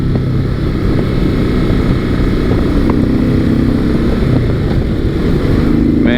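A Honda VTX1800R cruiser motorcycle under way, its engine giving a loud, continuous low rumble blended with wind roar, steady throughout with only slight shifts in pitch.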